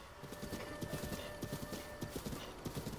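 Galloping horse hooves clip-clop steadily in Zelda: Breath of the Wild, a rapid continuous rhythm with a brief whinny, heard in the open Highlands without talk.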